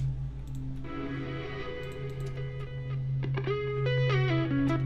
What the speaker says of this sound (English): And we've also got these reverse sweeps right here.